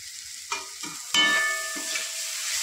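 Chili powder and cumin powder sizzle as they are stirred in hot oil in a pan for a whole Bombay duck fish curry, with a few scraping stirs and a louder burst of frying midway, no talking.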